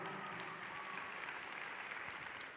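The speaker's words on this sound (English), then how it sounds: "Give our future stars a nice big round of applause." An audience at a dance academy scholarship event gives a dense, even round of applause for scholarship winners, moderately faint and continuous throughout without any talking.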